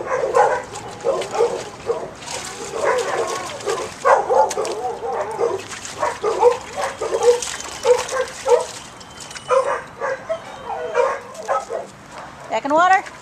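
Dog splashing in water outdoors on a hot day, with someone talking throughout and the dog whimpering and yipping amid bursts of water.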